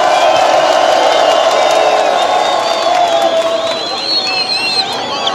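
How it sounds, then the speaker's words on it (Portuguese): Loud outdoor rally crowd cheering and whooping during a political march in Metangula, Lago Niassa district, with shrill ululating voices and clapping woven through a dense roar of people. "uma grande salva de palmas."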